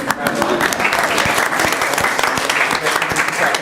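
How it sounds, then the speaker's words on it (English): Audience applause at a school board business meeting, greeting state qualifiers as they are called up; steady, dense clapping fills the room at moderate loudness, with scattered voices mixed in. "Y'all clap if you want."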